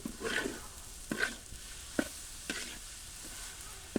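Onion and garlic stirred in hot oil in a village kitchen, with soft sizzling under repeated scraping strokes of a spoon against the pan, each stir a brief rustling burst, close and moderate in level.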